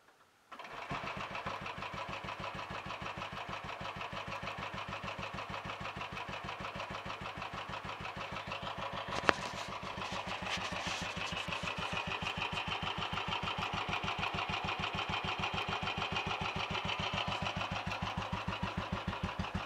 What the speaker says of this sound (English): I've had the engine running just a few minutes ago, so I'm expecting it will start quite easily.